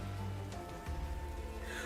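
Steady rain in the video game Path to Nowhere, a soft continuous wash of falling drops with a low rumble beneath, even and unbroken throughout.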